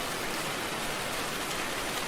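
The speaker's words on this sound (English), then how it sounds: "Feel the rain patter like gentle drums." Rain pattering steadily on a surface during a rainy night, a soft, even wash of dense drops, faint and continuous with no voices.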